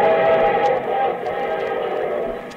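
Steady train rumble with a sustained whistle-like tone, used as a sound effect to open a radio show, loud and continuous for a couple of seconds.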